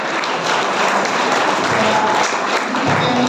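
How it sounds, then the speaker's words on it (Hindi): Everyone in a room at a Jeevan Vidya camp gathering at a college in Bemetara applauds all the teachers together, giving a dense, steady round of many hands clapping that lasts a few seconds. "एक बार तालियां सबके लिए।"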